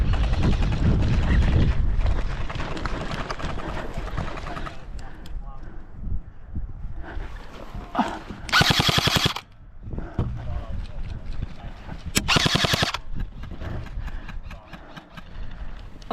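Airsoft guns fire in short bursts during a skirmish, with two loud, sharp rapid volleys standing out amid outdoor rustle and movement, while people talk over the action.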